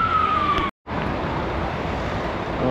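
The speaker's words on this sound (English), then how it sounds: "I've got a siren coming along" A siren from a passing emergency vehicle on a street in Seville, Spain, wailing steadily at moderate distance over traffic noise, briefly cut off midway before the street din resumes.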